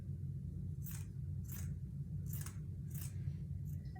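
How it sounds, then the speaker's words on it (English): Scissors trim around the glued edge of a handmade decor piece, five soft crisp snips spaced about half a second apart over a low steady background hum. "I will just kind of trim on the outside of where my glue was"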